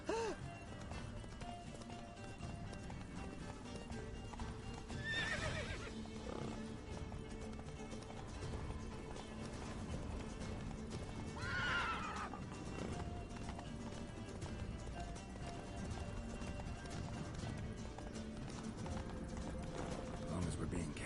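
In a video game, a horse's hooves clip-clop steadily at a run while it neighs a couple of times, all under a dense layer of game music and effects, with characters talking.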